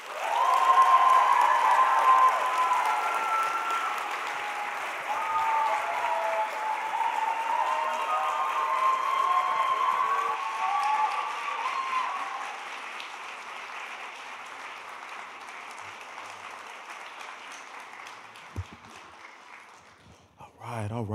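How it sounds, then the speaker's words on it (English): Audience at a diversity monologues event applauding and cheering after a speaker finishes, a dense, steady wash of clapping with scattered whoops and shouts that slowly thins toward the end. "Y'all can keep the applause going."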